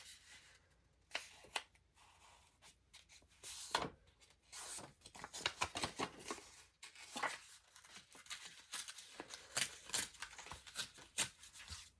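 Paper being cut and handled while making a junk journal page, scattered close scissor snips, rustles and soft tearing sounds at irregular intervals, quiet, with no voices.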